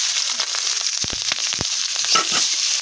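Garlic, chilli and onion hit hot oil in a pan beside fried hilsa fish head, producing a loud, continuous hiss and sizzle sprinkled with sharp pops and crackles.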